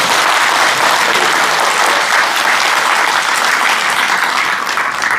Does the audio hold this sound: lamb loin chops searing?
no